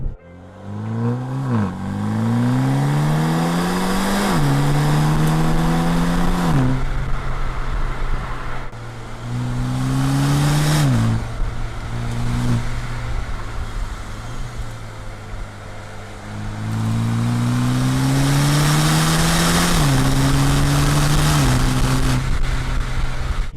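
A MINI Clubman JCW's 306 hp 2-litre four-cylinder engine accelerates hard, its pitch climbing through several gears with quick drops at each shift, loud and close, with no talking.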